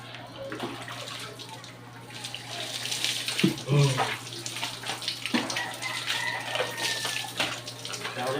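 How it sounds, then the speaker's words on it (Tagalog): Water streams steadily from a running shower, a continuous close hiss of spray with a few bumps and faint voices in the background. "Shower."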